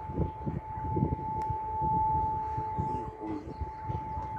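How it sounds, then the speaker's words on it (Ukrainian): A siren wails steadily at a leather factory during a flood, a sustained tone carried over rumbling water and wind noise, heard from a distance. "Кожезавод, сирена орет вовсю там."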